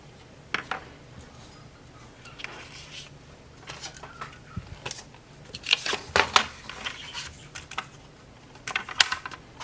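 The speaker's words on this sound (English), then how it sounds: "Now just cutting the paper where I marked it." Scissors cut through paper being trimmed to size for handmade miniature books, giving a few crisp, close snips at irregular intervals against a quiet room.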